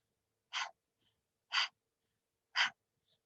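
Three sharp, even breath-of-fire breaths through the nose, spaced about a second apart in a metronome rhythm, close and clear in a quiet room.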